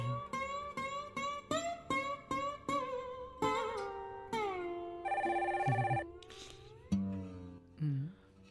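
A telephone rings in a short, repeating electronic melody of bright, tonal pulses, fairly quiet and alone before the call is picked up.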